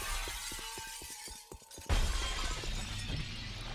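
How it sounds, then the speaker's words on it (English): Glass shatters loudly as a soldier crashes through windows in XCOM: Enemy Within, with a sharp burst of breaking panes followed by scattered falling shards and debris, and faint crackles before the main impact. "Cobra just jumping through windows, shattering shit all over the place"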